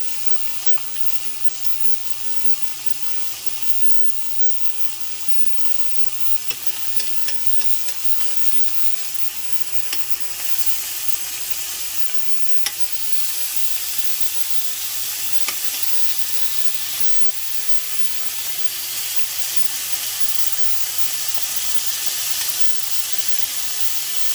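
Lamb chops fry in a single pan on a hotplate with a loud, continuous sizzle and hiss that holds steady throughout, crackling now and then, with no voices.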